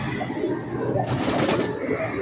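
A pigeon coos softly over a dense, noisy background, the low call faint and partly masked.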